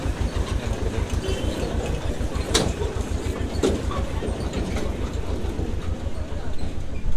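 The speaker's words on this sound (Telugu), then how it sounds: "టాయ్ ట్రైన్ అనమాట." Araku toy train running on rails, a steady rhythmic clickety-clack of wheels over rail joints throughout, close and loud, with a couple of brief sharper squeals or clanks in the middle.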